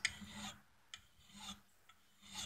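A flat-grind drill bit edge is hand-sharpened with slow, quiet rasping strokes, each a soft scrape roughly half a second apart, with faint ticks in between against a low background hum.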